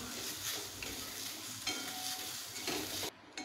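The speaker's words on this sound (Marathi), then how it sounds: "कांदा गोल्डन ब्राऊन होईपर्यंत चांगला भाजून घ्यायचा आहे" Onion, garlic cloves and sliced ginger frying in a pan toward golden brown, a dense close sizzle with a few scraping stirs, cutting off abruptly at the end.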